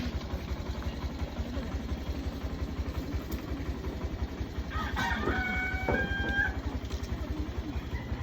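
A rooster crows once over the steady chug of an idling motorized tricycle engine, with a few clucks nearby.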